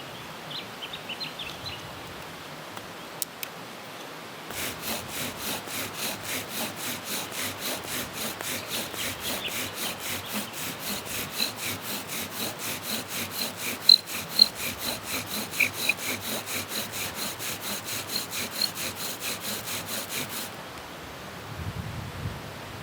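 A bow drill spindle driven by paracord saws back and forth against wood to make fire, a steady rapid rubbing rasp that runs continuously for about sixteen seconds, close and fairly loud, with a few faint bird calls behind it.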